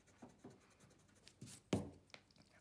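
Pen or pencil scratching across paper in short, quiet strokes, one firmer mark standing out near the end, heard close in a still room with no talking.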